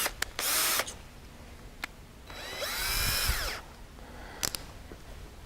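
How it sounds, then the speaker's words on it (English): A power drill bores a pilot hole in UHMW plastic in two bursts: a short whir, then a longer, louder spin whose pitch wavers. Light clicks of handling come between the bursts. "Okay, so first I'm going to do a pilot drill."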